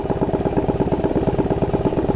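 A 212 Predator mini bike engine idles steadily with a fast, even putter and light mechanical clatter, close by and alone.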